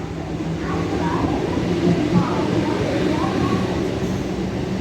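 An MMTS local train, number 47254, pulls away from Lingampalli in Hyderabad, a steady loud rumble and rolling roar heard from on board, continuous and close with no clear talk.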